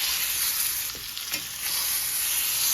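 Venison sears in a smoking-hot pan, giving a loud, steady, close sizzle with a couple of brief scrapes or stirs and no speech.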